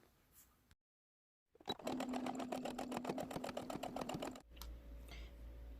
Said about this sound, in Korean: 창구멍 포함해서 박음질 하겠습니다.